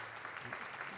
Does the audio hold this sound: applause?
yes